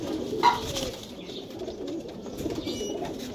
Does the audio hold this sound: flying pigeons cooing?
yes